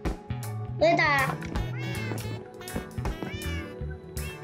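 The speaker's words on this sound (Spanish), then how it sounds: "Aquí hay un gato." Cat meowing in Minecraft: a short high, rising and falling meow rings out amid a child's excited chatter and game sounds, with further meow-like cries woven through the talking.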